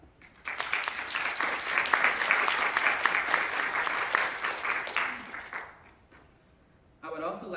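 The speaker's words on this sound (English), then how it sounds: "I'd like to give you all collectively a round of applause." Audience applause at a health policy research summit, a dense wash of clapping from a large crowd lasting about six seconds before fading, followed by a brief moment of quiet.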